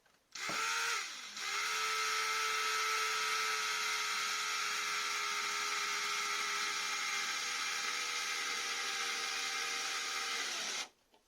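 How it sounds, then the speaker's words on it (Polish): A thin drill bit whines steadily into wood for a camper van drawer, a high, sustained motor tone spinning up then holding for about ten seconds before stopping, loud and close. "I tutaj będę nawiercał bardzo cieniutkim wiertłem"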